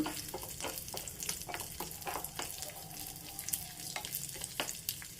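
Raisins and coconut pieces frying for jackfruit seed payasam, a soft, steady crackling sizzle with frequent small pops and spatters, fairly quiet and continuous throughout.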